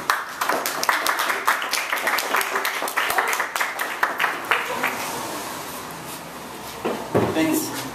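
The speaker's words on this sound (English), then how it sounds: "everyone give a round of applause for our next reader" An audience at a reading event applauds a reader coming up, a burst of scattered, close hand claps that thins out and trails off toward the end.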